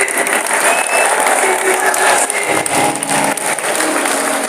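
During an evangelist's sermon, a church congregation breaks into loud, sustained clapping that fills the hall, with faint tonal sounds and voices underneath.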